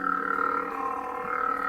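Ultrasabers Arbiter lightsaber with vented pommel and consular green blade, a steady humming drone with a slight wavering pitch, close and moderately loud with no voices.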